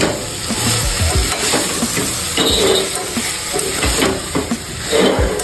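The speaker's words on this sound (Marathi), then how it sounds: "छान मिक्स करून घ्यायचं आहे।" A spoon stirs basmati rice khichdi with dried bombil fish in a pot over a wood-fired stove, repeated scraping strokes over a steady sizzle and hiss, close and loud.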